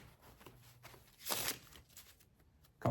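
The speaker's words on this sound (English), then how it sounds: "first deck can be shuffled." A deck of playing cards is shuffled close up during an impromptu card trick routine, giving a short, soft riffling flutter with light taps before and after, quiet and without talk.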